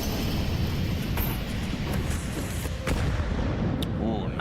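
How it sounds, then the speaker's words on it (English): A grenade detonates in a Counter-Strike 2 match at a major esports tournament, with booming blasts and gunfire under continuous commentator talk. "Ooh, nice nade."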